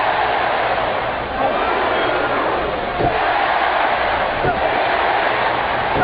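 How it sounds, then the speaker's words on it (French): A large wrestling arena crowd roars and reacts during an Undertaker match at WrestleMania, a loud continuous wash of cheering voices with a couple of sharp thuds rising out of the din. "Écoutez la foule qui réagit."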